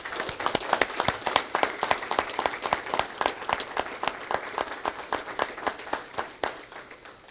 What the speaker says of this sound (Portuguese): Eu peço a todos uma salva de palmas aos homenageados.